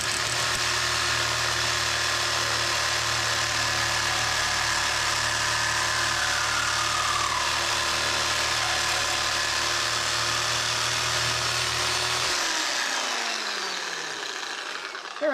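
A reciprocating saw fitted with an 8-inch diamond grit blade cuts through copper pipe, a loud steady buzzing whine with a constant motor hum that runs continuously for about twelve seconds, then stops and winds down.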